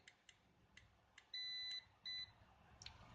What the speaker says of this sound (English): We're gonna go by the legs one by one till we hear beeping.